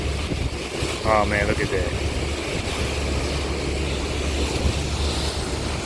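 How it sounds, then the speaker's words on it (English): Wind and choppy harbor water rush steadily past as two ferries cross New York Harbor between Staten Island and Manhattan, a loud continuous roar with a brief whistle-like squeal and someone speaking over it. "Two ferries passing in the harbor."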